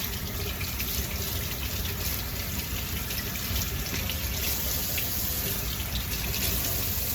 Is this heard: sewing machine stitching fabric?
no